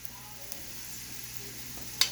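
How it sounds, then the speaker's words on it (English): Tomato paste fries with onions in a pot, giving a steady, soft sizzle throughout with a sharp clink near the end. "Because you always want to fry your paste."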